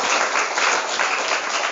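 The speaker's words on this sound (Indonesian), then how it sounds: "Tepuk tangan dong buat yang sudah bicara" An audience at a motivational seminar with students applauds, a dense, loud, continuous wash of many hands clapping close by, with no speech over it.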